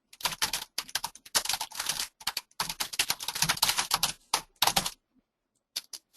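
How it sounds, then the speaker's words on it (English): Bursts of fast, loud clattering on a computer keyboard fill the clip in close-up, with short pauses between flurries of keystrokes and a brief silence near the end. "Sorry for my loud keyboard. I've been told it's very loud."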